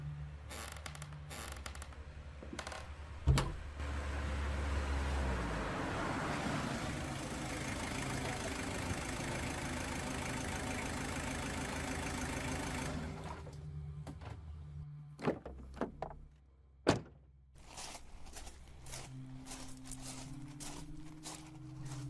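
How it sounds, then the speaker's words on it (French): A car arrives outside and idles with a low, steady engine hum that lasts several seconds, followed by scattered clicks, thumps and handling noises. "Ah, j'entends une voiture."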